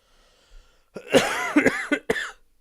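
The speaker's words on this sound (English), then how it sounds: "I'm getting a coughing fit." A person coughs in a short fit of several harsh, close bursts, the first the longest and the rest coming in quick succession, with near silence before and after.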